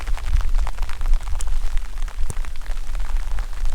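Rain drums on a tent during a wild camp on Cadair Idris, a dense, steady hiss with a low rumble and scattered sharper pattering close by. No voices are heard.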